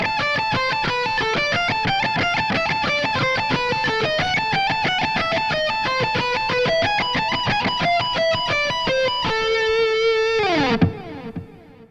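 Distorted electric guitar plays a fast neoclassical pedal-tone arpeggio lick, a continuous rapid stream of picked notes that ends on a sustained bent note before fading, with no talking.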